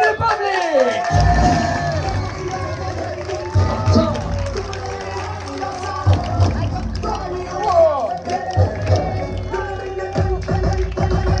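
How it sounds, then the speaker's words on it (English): At a holiday resort animation show in Crete, a lively crowd cheers, whoops and calls out for a performer from the Czech Republic, with voices shouting and babbling loudly throughout. "let's make an applause for Philly from Czech Republic"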